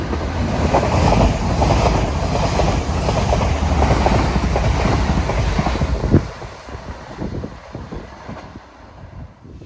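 A Pennine train rolls through a small rural station, a loud steady rumble with rhythmic clickety-clack of wheels over rail joints that fades out after about six seconds, leaving quieter rattling as it moves away.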